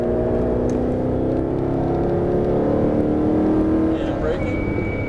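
A Mercedes-Benz SLS AMG driving on a race track in Las Vegas gives a loud, steady engine drone with a sustained whine that holds throughout, close and continuous.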